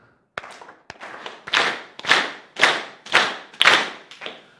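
About eight sharp hand claps ring out close and loud, each one trailing into a short echo, coming in a steady, evenly spaced rhythm.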